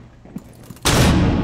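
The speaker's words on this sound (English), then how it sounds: "Flashbang out!" A flashbang grenade goes off in Rainbow Six Siege as a sudden, very loud blast after a quiet moment, followed by a sustained harsh roar that stays loud to the end.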